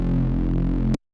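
A distorted, wobbling Serum synth bass in a drum-and-bass style plays loud and thick for almost a second, cuts off abruptly, then a short, clean sine-wave bass note closes it.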